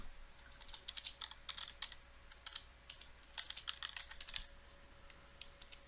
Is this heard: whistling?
no